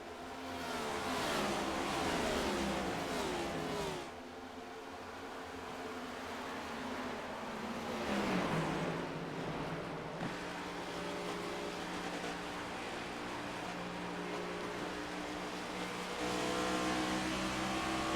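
Race cars in the iRacing IROC Challenge simulation at Texas Motor Speedway accelerating off the corners, a continuous engine drone that swells and shifts pitch as cars pass, steady and moderately loud with no talk.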